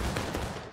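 A musket volley fired on command in the War of Rights video game, heard as one short, dense crackling blast that fades quickly.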